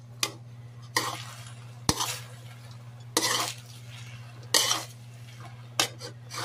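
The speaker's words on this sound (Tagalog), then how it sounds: "Habang niluluto natin yung gulay, mag-mix na tayo." Vegetables for pancit guisado being stirred in a pan, with a spatula scraping and clinking against the metal in distinct strokes about once a second over a steady low hum and faint sizzle.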